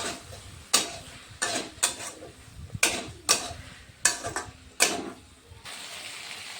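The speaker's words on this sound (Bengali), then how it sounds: "আলু মটরগুলো নিয়ে একটু সামান্য কষিয়ে নেব।" Potatoes and peas being stir-fried with spices in a pan, a spatula scraping and clattering against the metal in about eight sharp, close strokes with short pauses between, no talking.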